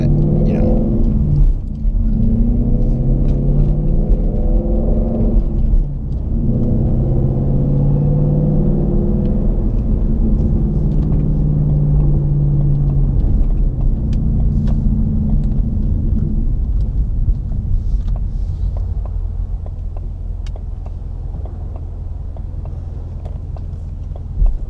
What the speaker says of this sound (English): this exhaust and this exhaust setup in this car is just amazing